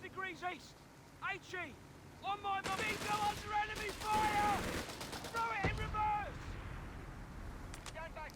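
Artillery barrage in the Company of Heroes 3 game, a run of heavy booming impacts and crackling blasts packed into the middle seconds, with short whistling effects before and after.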